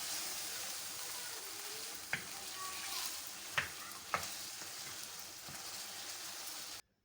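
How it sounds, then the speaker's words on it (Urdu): Mutton fries with yogurt in a karahi, giving a continuous soft sizzle with a few sharp clicks of a spoon against the pan before the sound cuts off abruptly. "دہی ڈال کر میں اچھے طریقے سے اس کو ایک بار پھر بھون لوں گی۔"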